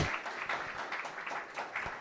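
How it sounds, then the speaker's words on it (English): Audience applause at a startup pitch night, a steady wash of many hands clapping through the room at moderate volume, swelling in brief bursts without any voices over it. "big round of applause for this great quality of pitches on the front end of this event"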